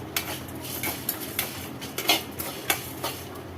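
Scraping and clinking of a utensil stirring dry chillies and tamarind roasting in a metal pan, in quick irregular strokes, close and fairly loud.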